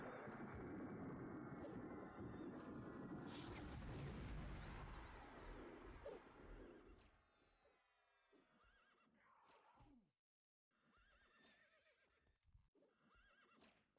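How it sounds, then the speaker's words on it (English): A horse whinnies loudly over rumbling EverQuest game noise, followed by quieter clip-clop and scattered effects as the sound thins out. "All right, there's a horse here."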